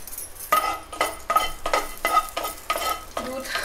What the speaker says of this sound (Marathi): 3-4 मनुका आणि चमचाभर चारोळी मी हे भाजून घेत आहे.